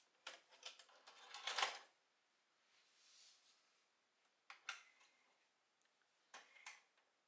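A VHS tape goes into an old 1980s VCR, giving quiet mechanical clicks and a rattling clatter, then a pause and a few more faint ticks and clunks as the deck's mechanism engages.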